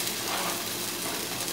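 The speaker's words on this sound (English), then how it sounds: "Nice little sizzle." Salt cod fritter batter sizzling in a hot skillet of oil, a steady close hiss and crackle of frying for a brief moment.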